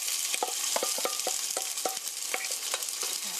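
Seasoned ground beef fries in oil in a pan, giving a steady, close sizzle with scattered crackles and pops throughout and no voices.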